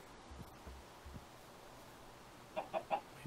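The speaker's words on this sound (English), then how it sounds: "Wait for the chicken to stop freaking out." A Minecraft chicken in the Better Than Wolves mod gives three quick, faint clucks in a row near the end, over a quiet, low background hum with a few soft thumps earlier.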